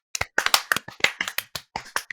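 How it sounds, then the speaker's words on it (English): A few close, sharp hand claps sound in an uneven rhythm, a small round of applause from a handful of people during a Dragon Ball Z podcast chat. "Let's give him a round of applause"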